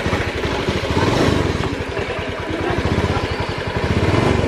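A Honda Beat FI fuel-injected scooter engine, running rough, revs up and settles in a steady throbbing pulse close by, the throttle rising and falling with no voice over it.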